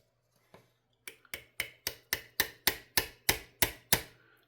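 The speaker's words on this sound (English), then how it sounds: "Now, I'm going to give it a little tappy tap." A small hammer taps a pin into a Real Steel Huginn Compact folding knife, about a dozen crisp, evenly spaced metallic ticks that grow slightly louder, close up and alone in a quiet room.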